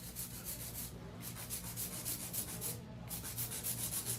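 A coarse nail file scraping back and forth across nails in a steady rhythmic rasp, close and continuous, with brief pauses between strokes.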